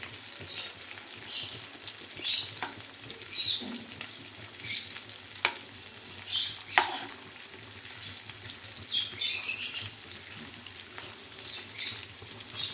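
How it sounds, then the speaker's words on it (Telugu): Chicken with ginger garlic paste frying in oil, a constant close sizzle broken by repeated louder bursts and scraping as the pieces are stirred and turned. "ఇప్పుడు ఆయిల్లో బాగా ఫ్రై అయితే అల్లం వెల్లుల్లి పేస్ట్ కూడా బాగుంటుంది."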